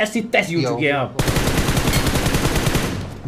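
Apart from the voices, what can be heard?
gunfire in the video game PUBG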